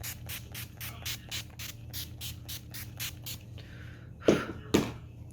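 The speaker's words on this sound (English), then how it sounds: "I kind of lift my face and then spray upwards so that it falls onto your" NYX Dewy Finish setting spray misted toward a face in a rapid run of short hissing pumps, then two louder, fuller spritzes, close and fairly quiet.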